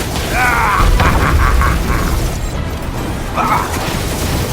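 A mechanism forced open in the Guardians of the Galaxy video game, a loud grinding, ratcheting clatter over a heavy low rumble, with a faint voice briefly in the mix.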